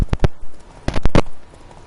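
A horse in The Witcher 3 moves in quick bursts of hoofbeats: a pair of thuds, a pause, then a fast run of three or four close, loud impacts.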